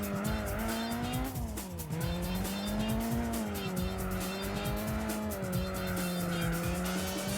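Concept car engine in Gran Turismo 4, a sustained, loud droning tone that rises and dips as the car races, with tires squealing throughout.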